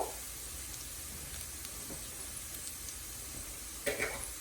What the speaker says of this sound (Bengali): পেঁয়াজটা হালকা ব্রাউন হয়ে আসছে